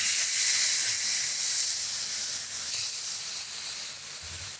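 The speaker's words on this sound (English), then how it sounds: "we're gonna give these burgers a flip and let them cook on the onion side" Smashburgers sizzle loudly and steadily on a Blackstone griddle after being flipped onto the onion side, a dense continuous hiss heard up close with no voices.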